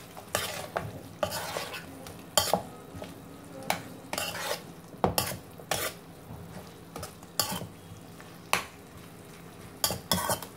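Boiled eggs being stirred into vegetables in a pan for egg chilli: a quiet sizzle broken by repeated sharp scraping strokes of a spoon against the pan, arriving in an uneven rhythm close up.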